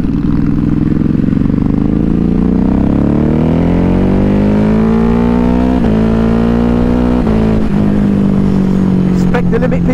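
A 2022 Ducati HyperMotard 950 SP rumbles loud and steady while being ridden, its engine note rising gradually through the revs with a couple of quick gear-change dips, under wind roar.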